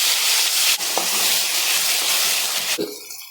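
Ginger and garlic dropped into hot oil for a chicken dry gravy, giving a steady loud sizzling hiss that cuts off sharply near the end, leaving a fainter crackle.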